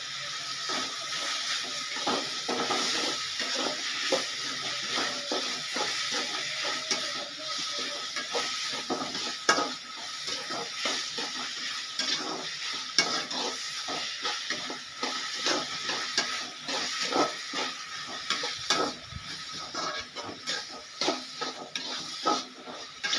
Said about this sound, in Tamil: தக்காளி நல்லா வதங்கட்டும். லைட்டாக உப்பு போட்டு வதக்குங்க.